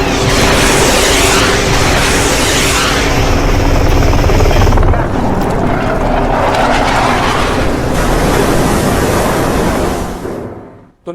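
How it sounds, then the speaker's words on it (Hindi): Helicopter over the sea near the US warship USS Tripoli during an attack on an Iranian ship, a loud continuous rotor roar with wind and surf-like rushing that shifts midway and cuts off at the end. "ये वही हेलीकॉप्टर आप देख रहे हैं। हेलीकॉप्टर वहां पहुंचा"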